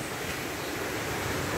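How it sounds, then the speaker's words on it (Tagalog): Heavy surf breaks on a beach at Lumbal in rough weather, a loud continuous roar of crashing sea waves with wind buffeting the microphone and no pause or voice. "Malakas ang alon eh, oh."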